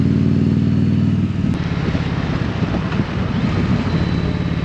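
An Indian Challenger Dark Horse 2022 motorcycle accelerates on a test ride, its engine droning low and steady while strong wind rushes past the rider's microphone throughout.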